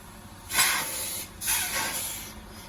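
Air hissing out of a truck's air brake system as it settles: two close, loud bursts of hiss, each about a second long, with no one speaking.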